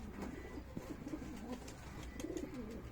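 Tumbler pigeons coo steadily in repeated low, rolling phrases, several birds close by with a faint ambient background and no talking.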